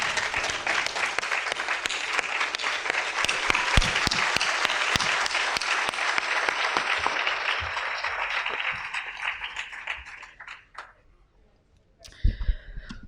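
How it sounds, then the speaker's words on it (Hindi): Loud, sustained applause from a large audience welcoming poet Swanand Kirkire on stage at a Hindi campus poetry event, dense clapping that fades out toward the end before a few stray claps. "मैं ज़ोरदार तालियों से मंच पर स्वागत करना चाहूँगी स्वानंद किरकिरे जी का।"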